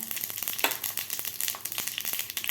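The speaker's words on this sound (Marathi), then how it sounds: "घालायची आपल्याला मोहरी मोहरी आपल्याला व्यवस्थित फुलं द्यायची आहे" Mustard seeds crackle and sizzle in hot oil with green chillies for a curd rice tempering, a close, busy pattering of sharp pops over a steady fry hiss.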